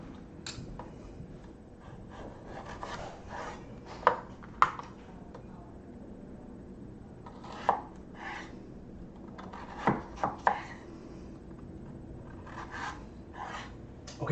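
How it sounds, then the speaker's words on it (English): Faint, sparse knife taps and scraping on a cutting board as a carrot is diced, with a few sharper chops spaced irregularly over quiet background noise. "I'm gonna go ahead and finally dice up this carrot."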